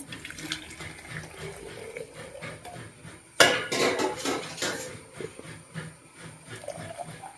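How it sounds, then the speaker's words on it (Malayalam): Water runs from a tap into a vessel, its pitch rising as it fills, then a louder splash with clattering dishes nearby. "കുടിക്കാൻ വെള്ളം പകർത്തി വയ്ക്കട്ടെ"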